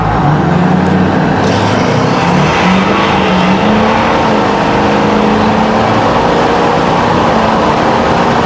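A Ford 6.4L Powerstroke diesel truck fitted with a large fuel pump accelerates hard in two-wheel drive, a loud continuous engine roar climbing steadily in pitch through the run, heard from close up without talking.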